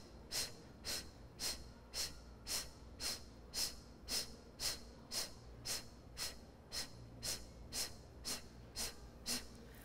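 Rapid rhythmic pranayama breathing during a yoga flow, about twenty sharp nasal exhales in an even steady pulse, close and clear with no talking.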